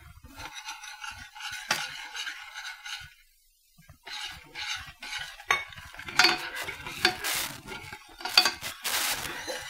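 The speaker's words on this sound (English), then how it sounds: "I'm going to leave it on low while I stir in a half a cup of sugar." A spoon stirs sugar into a pot of pumpkin spice latte mixture over low heat, with irregular scraping and clinking against the pot, close and moderately loud, pausing briefly midway before resuming.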